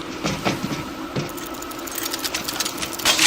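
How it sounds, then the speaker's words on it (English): A heavy machine gun fires in the video game World War Z Aftermath as a rapid mechanical rattle of steady clicking shots, moderately loud, over game ambience that swells toward the end. "I've got a heavy weapon."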